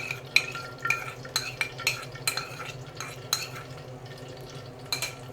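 Three or four cloves of finely chopped garlic are stirred in oil in a pan for raw mango chutney. A spoon taps and scrapes in an irregular rhythm over a faint, quiet sizzle, with no talking.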